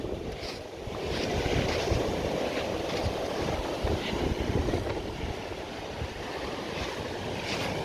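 Sea waves wash onto an English beach on the Humber coast, a loud steady roar of surf with wind rushing past the microphone and no talk.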